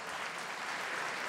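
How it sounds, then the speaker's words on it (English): A squash crowd at the 2016 Hong Kong Open quarter-final applauds, a steady even wash of clapping that fills the whole moment with no voices over it. "Crowd are clapping."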